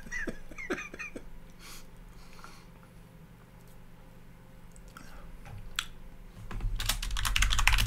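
Keys clack on a computer keyboard in quick irregular bursts, soft close taps scattered over a low room hum, ending in a louder rustling stretch.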